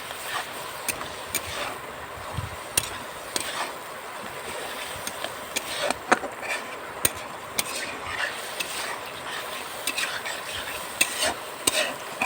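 Masala frying in a pan in a village kitchen, a constant sizzle broken by frequent scraping clicks of a utensil stirring against the metal, close and busy throughout.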